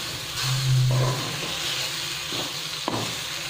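Ground masala paste sizzles and hisses steadily as it roasts in hot oil in a pan for a dry green chickpea nimona curry, with a few soft stirring scrapes over the moderate, continuous frying.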